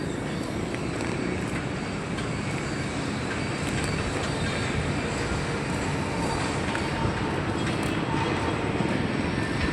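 An MRT metro train rumbles steadily near its end terminal, a continuous broadband roar with faint squeals, heard alone without talk.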